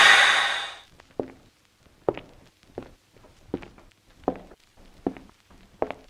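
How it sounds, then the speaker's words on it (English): Slow footsteps at a measured, even pace, about seven distinct soft thuds spaced almost a second apart, following a loud hissing rush at the start, with no voices. "Walk slowly."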